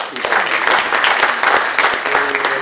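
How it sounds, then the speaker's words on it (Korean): Audience applause at a panel discussion on a presidential impeachment trial, steady dense clapping filling the room throughout, with a voice faintly heard near the end. "박수 한번 보내주시죠"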